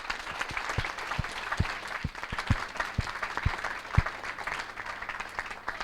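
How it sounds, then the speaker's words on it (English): A round of applause for Jeff from the audience at a youth charter legacy debate, dense continuous clapping with a few louder individual claps standing out, sustained for several seconds and close, no voices. "a round of applause for Jeff"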